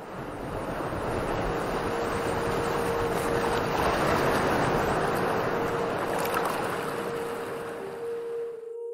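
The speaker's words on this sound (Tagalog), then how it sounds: "Sa mga nakalipas na sandali, patuloy ang paghampas ng alon" Ocean waves crash and wash continuously onto a beach, a loud, steady roar of surf with gusty wind noise, fading out at the very end.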